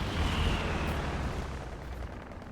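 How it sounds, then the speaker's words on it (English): Stuka dive bomber barrage explosions in a World War II strategy game land as a heavy, rumbling blast that rolls on and slowly fades, loud and alone. "And we have another Stuka barrage"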